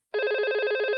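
A telephone rings with a steady electronic warble, loud and continuous for about a second, with no talking.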